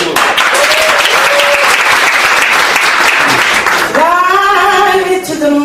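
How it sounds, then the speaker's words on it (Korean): Applause from an audience at a Korean youth discussion event, sustained clapping throughout, with a voice briefly rising over it near the end. "박수"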